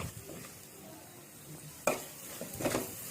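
Frying in oil on a stove over medium flame with curry leaves added: a soft continuous sizzle, with a sharp crackling burst and later spatters as something hits the hot oil.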